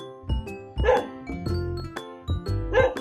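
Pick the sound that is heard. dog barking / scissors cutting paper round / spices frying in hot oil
dog barking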